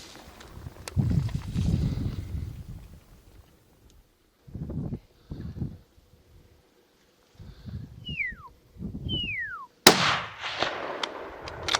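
A hunting rifle fires one sharp, loud shot at an elk during a Colorado rifle season, a sudden crack late in the sequence after stretches of low muffled voices and faint rustling, with a couple of brief high squeaks before it.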